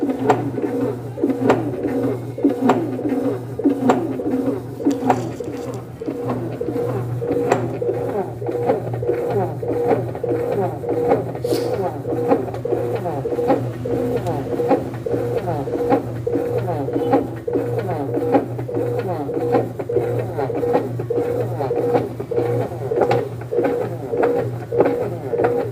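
A Brastemp washing machine running its wash cycle with the mechanism box opened, giving a steady low mechanical hum with a repeating rhythmic knocking and whirring from the drive mechanism, close and continuous throughout.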